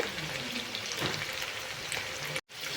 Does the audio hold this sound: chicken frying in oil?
yes